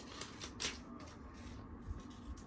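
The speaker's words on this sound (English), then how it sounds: "I'm going to cut around my grapes like this." Scissors snip around a paper cut-out of grapes, giving a few soft, quiet rustling cuts and paper crinkles close by.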